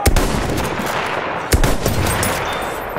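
Enemy machine gun fire in Battlefield 1 rattles in dense, continuous bursts amid a loud battlefield, with a sharp burst near the middle and steady gunfire throughout, no voices.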